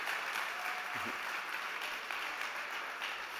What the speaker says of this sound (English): a big round of applause for Tanguy